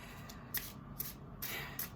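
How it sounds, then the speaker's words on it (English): Oracle cards are shuffled by hand, giving soft, close riffling and rubbing bursts that come in a few short clusters over a quiet background. "while I'm shuffling the cards"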